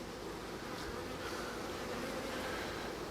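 Honeybees buzzing steadily around an open hive during an inspection, a dense continuous hum close by with no voices.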